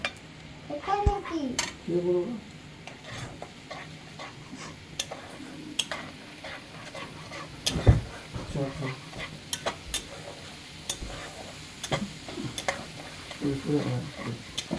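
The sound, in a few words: spices frying and being stirred in a pan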